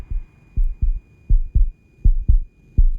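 Thudding heartbeat from the video game The Invincible, a steady double-thump rhythm of low, heavy beats repeating about every half second, close and alone over quiet background.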